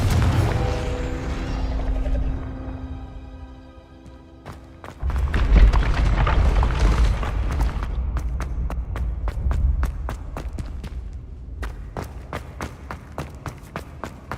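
In Hogwarts Legacy, a Confringo fire spell erupts into a deep booming blast with rumbling low thuds, followed by a run of sharp, rapid clicking hits and fading rumble.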